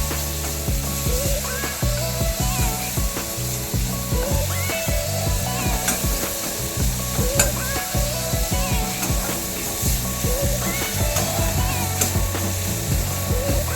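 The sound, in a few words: stirring ginger-garlic paste in a pan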